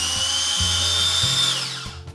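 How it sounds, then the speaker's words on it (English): A two-speed mini food processor chops and grinds jerk paste seasonings, its small motor whining steadily and loudly with brief pulses and shifts in pitch as the blade changes direction, running alone with no talk. "The mini processor actually has 2 speeds, chop and grind, and all that means is one goes counterclockwise, one goes clockwise."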